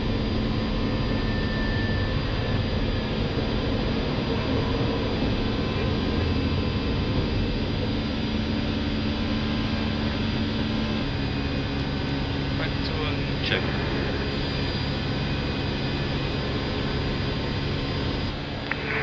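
Jet engines of an Air Cote d'Ivoire Airbus A319 roar steadily from inside the cockpit during the takeoff climb, a constant loud broadband rush throughout.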